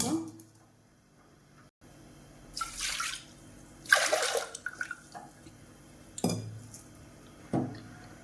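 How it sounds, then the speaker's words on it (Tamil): Water is poured into a pressure cooker holding washed millet, coming as several short splashy bursts with light clinks of the vessel. Quiet kitchen background and a voice are heard between the pours. "குக்கரில் சேர்த்துட்டு இது வந்து ஒரு கிளாஸ் தினைனா 4 கிளாஸ் தண்ணி ஊற்றி இதை வந்து வேக வச்சு எடுத்துக்கலாம்"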